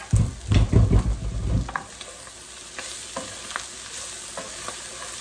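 Vegetable bhaji being stirred in a frying pan: loud scraping stirs for the first couple of seconds, then a steady soft sizzle with occasional light clinks and scrapes, no talking.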